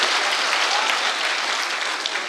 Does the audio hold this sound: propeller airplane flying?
no